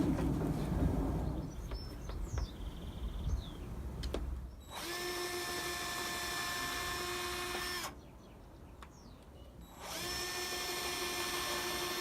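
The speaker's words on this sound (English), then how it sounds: "I'll drill pilot holes for the bigger screws." Two bursts of a power drill whining at a steady high pitch, a few seconds each, drilling pilot holes for screws in a folding solar panel, with a quiet pause between and faint birdsong around.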